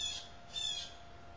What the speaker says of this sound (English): that bird, that damn bird is just gonna drive me insane